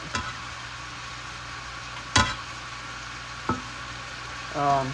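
Food sizzling and frying steadily in a pan, a continuous close crackle with a few sharp clinks of a utensil against the pan.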